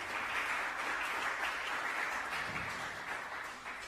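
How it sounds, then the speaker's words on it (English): Audience applause for a presenting team at a Houston startup pitch day, a steady dense wash of clapping that holds throughout and tapers slightly toward the end, with no voices over it. "let's give Olympus Watches a round of applause"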